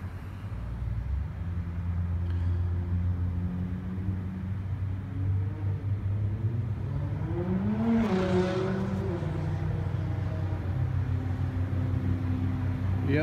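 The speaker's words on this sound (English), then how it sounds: "yep, there it goes. It's a GTR." A Nissan GT-R sports car passes on a highway, its engine note rising and sweeping by around the middle over a steady background of other traffic rushing down the road.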